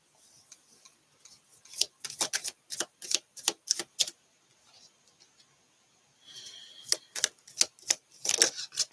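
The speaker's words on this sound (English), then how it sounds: "Let me get all the cards out." Tarot cards are handled and laid out one by one, producing a series of crisp, close snaps and taps in uneven rhythm, with a short pause midway before another cluster of card clicks.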